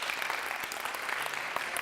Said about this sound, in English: Round of applause. That is amazing.